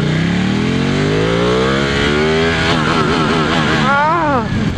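A Ducati 1199 Panigale R motorcycle engine revs hard and rising through a gear, then flares sharply on a missed shift, loud and close throughout with wind noise.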